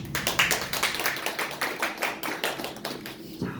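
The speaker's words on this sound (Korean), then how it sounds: "환영의 박수를 올려드립니다." Welcoming applause from a small church congregation, a loose, rhythmic patter of hand claps at moderate distance that gradually thins out and fades near the end.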